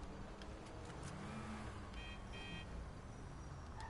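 A car driven in a video game, its steady engine drone running continuously at a moderate level with faint horn-like tones partway through, no talking.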